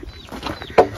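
A few close chicken clucks, ending in one louder, sharper squawk near the end of the brief moment.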